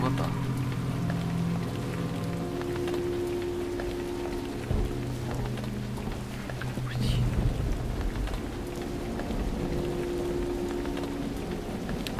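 Rain falls in the stealth video game Dishonored, a continuous patter with a faint rumble beneath, while someone speaks French over it.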